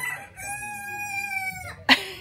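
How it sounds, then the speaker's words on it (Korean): A rooster crows once in a long, steady harmonic call lasting over a second, close and clear, followed by a brief sharp cluck or burst at the end, with no talk. "닭이 참 예쁘게 생겼어."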